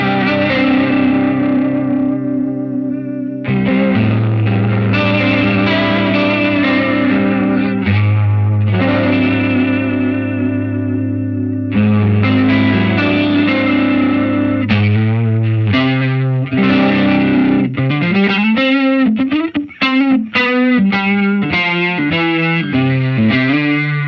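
Guitar run through a Line 6 HX unit with a distorted, warbly old-record effect, sustained wobbling chords, then a quicker picked phrase near the end, loud and alone without talk.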